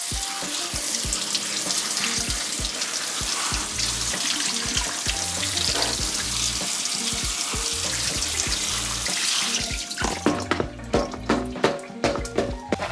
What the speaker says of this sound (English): So I'm gonna go ahead and rinse this off.